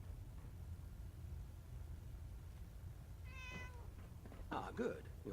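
Cat in the video game Fallout 4 VR gives a single short meow midway, followed by a louder, rougher second meow, both over a low steady background hum.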